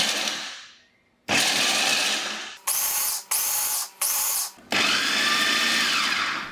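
A food processor blends full-cream milk powder with a pinch of salt: one long loud whirring run, then a pause and several short pulsed bursts, ending in another sustained run, with no talking.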